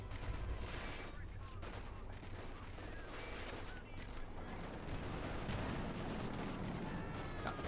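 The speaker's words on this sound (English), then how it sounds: "the machine guns blazing away, silencing Brit after Brit" Machine guns rattle in dense bursts in a Company of Heroes 2 battle, with German and British forces clashing at Faymonville, the fire continuous and layered with distant explosions and battlefield din.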